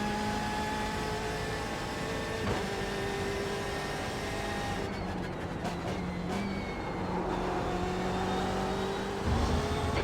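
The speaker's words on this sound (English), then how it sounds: "The tyres are making a lot of noise." A racing car's engine drones steadily with tyre noise layered over it in iRacing, continuous and close, with shifting pitch as it corners.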